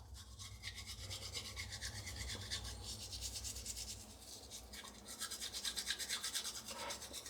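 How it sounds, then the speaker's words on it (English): A toothbrush scrapes along braces on the teeth in quick, close, repeated rubbing strokes, a soft bristly rasp with brief pauses between bursts. "I'm just scraping the brace along my teeth"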